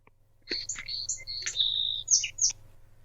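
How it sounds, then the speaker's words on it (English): Small birds chirping in the background, a quick series of bright tweets and short trills over a low steady hum, lasting a few seconds. "that was lovely with the little birds in the background"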